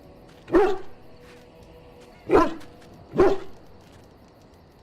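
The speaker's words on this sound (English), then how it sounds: "You can pet the dog." A dog in the video game Dragon Age Origins gives three loud, close barks, spaced a second or two apart, with a fourth just beginning at the end, over a quiet background.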